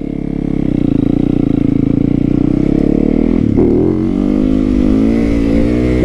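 A motorcycle engine runs loud and close as the rider revs it for a wheelie on a country road. The engine note holds steady and heavy, briefly dips, then climbs back up.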